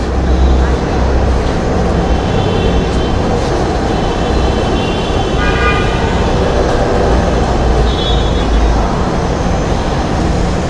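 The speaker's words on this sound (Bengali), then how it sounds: "অবশেষে আমরা দেখতে পাচ্ছি এই যে মেট্রো রেলটি চলে এসেছে এখানে।" A Dhaka Metro Rail train pulls into the station platform with a broad, steady rumble and hum throughout, a few faint tonal whines and beeps above, with people talking in the background.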